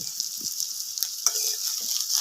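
Onions and chillies frying together in a pan in a village kitchen, a steady bright sizzle with occasional louder crackles and soft stirring scrapes, close and continuous with no talking.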